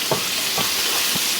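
Garlic and oregano sizzle steadily in a hot pan, a constant close frying hiss with a few soft stirring scrapes spaced through it, no voices.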